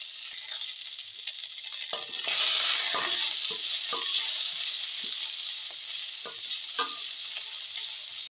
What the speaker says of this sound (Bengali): পেঁয়াজটাকে একটু লাল লাল মতো করে ভাজা ভাজা মতো করে নেব